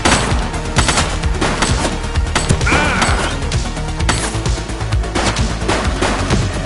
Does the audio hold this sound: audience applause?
no